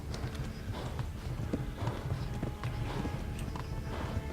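Horse hooves clip-clopping at a steady trot in the video game Kingdom Come: Deliverance, rapid rhythmic hoof strikes under a noisy background, moderately close and continuous.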